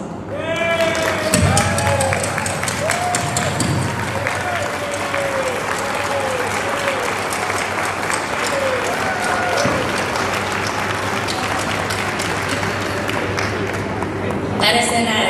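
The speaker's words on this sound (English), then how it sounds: "would you please rise for a round of applause?" Sustained applause at a high school STEM awards ceremony as parents and family of the students rise, steady clapping from a large crowd with voices and some thumps underneath throughout.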